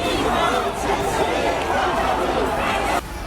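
A crowd of Iranian protesters gathered in a Los Angeles street gives off a steady, dense murmur of many voices at close range, with no single voice standing out.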